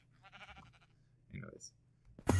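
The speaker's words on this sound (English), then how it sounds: "finally, the sheep ate the grass and made wool" Sheep in the Minecraft video game bleat in a few short bursts, with a voice talking faintly underneath and a sharp burst at the end.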